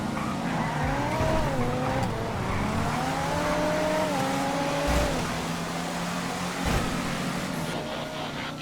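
Slow cars, including a Mañana, driving in GTA FiveM: a steady engine drone with gear-like pitch rises and dips, occasional tire noise, and faint low thumps throughout.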